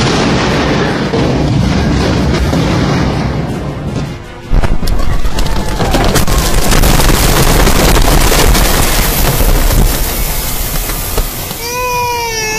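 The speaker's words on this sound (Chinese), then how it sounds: "爆炸一波一波咁嚟。" An underground gas pipeline explosion tearing up city streets produces a sustained, very loud roaring blast noise in waves. It drops briefly, then surges back just as strongly, with faint cries near the end.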